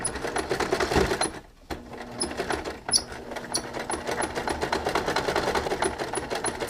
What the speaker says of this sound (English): we've sewn in our pipe cleaner, tack it down, cut your threads